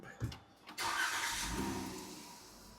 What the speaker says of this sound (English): All right, let's start it up.